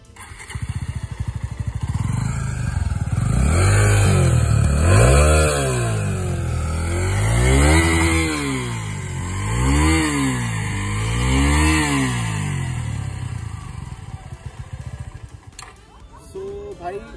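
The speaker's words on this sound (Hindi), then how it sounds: "सो भाई स्टार्ट करते हैं पहले इसके एग्जॉस्ट साउंड से।" A Suzuki V-Strom SX 250 motorcycle idles close by with a deep, steady exhaust rumble, rising and falling through several throttle blips in an even rhythm.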